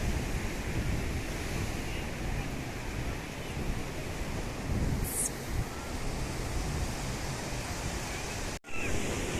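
Ocean waves at Colva Beach, Goa, wash in as a continuous broad roar with wind buffeting the microphone, steady and moderately loud, with a brief dropout near the end and no talk.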